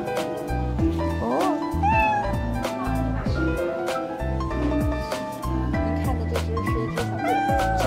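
A three-month-old male kitten meows several times in a row, the calls close and clear over a busy, steady background of other sound.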